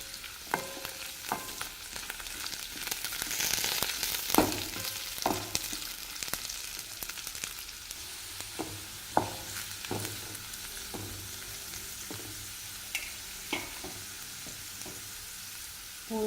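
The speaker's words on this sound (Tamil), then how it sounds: "மூணு பல் பூண்டு சேர்த்துக்கிறேங்க." Three garlic cloves fry in a pan with a steady soft sizzle, and occasional stirring clicks and taps sound over it.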